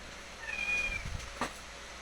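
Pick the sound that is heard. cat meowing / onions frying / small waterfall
cat meowing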